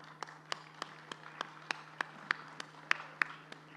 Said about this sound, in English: I think you should give yourselves a big round of applause for being here.